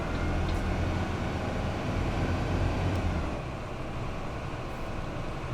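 A bus engine with a Voith gearbox rumbles low and steady in the OMSI 2 driving simulator, a continuous faint drone with no talk over it.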